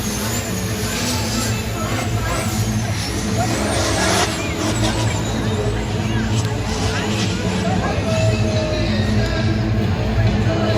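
Monster truck diesel engines rumble and rev continuously at a Monster Jam stadium event, a dense loud roar with crowd noise and an announcer speaking throughout.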